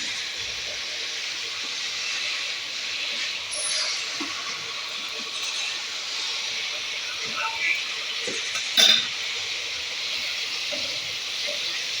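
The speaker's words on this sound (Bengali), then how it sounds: "এখানে মাছ ভাজছি" Fish frying in a pan gives a steady, moderately loud sizzling hiss throughout the kitchen, with a few small pops and clicks and no voices.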